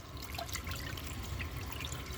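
Water trickles and dribbles faintly after the flush of a defective 1996 Crane Hymont toilet, a soft steady running sound with a low rumble beneath and no voices.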